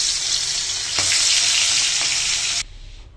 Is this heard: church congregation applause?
no